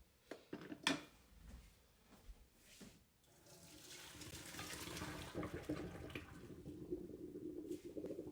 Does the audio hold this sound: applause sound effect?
no